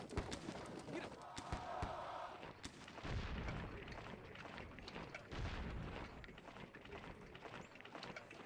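Cannon fire from Civil War artillery batteries in Sid Meier's Gettysburg, heavy booming reports with dense battle noise throughout, loud and continuous, with a voice talking over the fighting.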